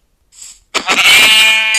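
A brief bleat, then a louder, sustained Minecraft sheep bleat with a wavering, nasal tone, close and clear with no talk.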